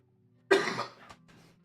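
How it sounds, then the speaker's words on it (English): A single cough rings out close to the mic, a sharp burst that trails off, followed by a fainter second catch in the throat; no one speaks. "Sorry, bit of a cough."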